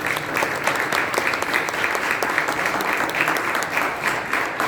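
An audience applauds to welcome chief guest Yogesh Soman at a Marathi/Hindi playwriting workshop in Mumbai, a steady, dense burst of clapping that holds at an even level throughout.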